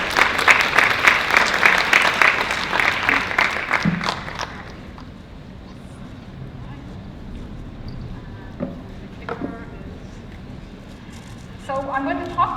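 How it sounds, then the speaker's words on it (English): An audience at a business talk applauds loudly for the first few seconds, then the clapping fades away into a quiet room with faint scattered sounds and a brief voice near the end. "So I see some cheering going on"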